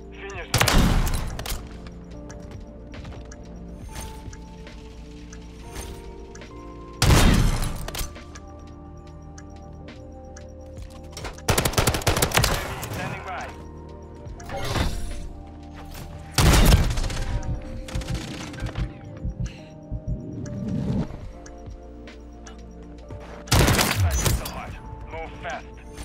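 Sniper rifle shots in a first-person shooter video game ring out as loud, sharp cracks spread across the clip, mixed with other gunfire and explosion-like crashes over background game noise.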